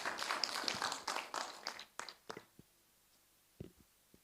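An audience in a breakout session on re-entry policy claps for a speaker. The clapping starts as a dense burst, then thins to a few scattered, fading claps and falls almost silent.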